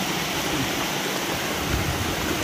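Steady broadband rush of water flowing over a check dam, constant and fairly close, with no voices or breaks.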